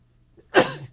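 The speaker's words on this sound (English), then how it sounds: "The allergists have you sneezing. Right in the middle of a radio show." A single short, sharp sneeze-like burst close to the microphone, abrupt and breathy, in an otherwise quiet moment.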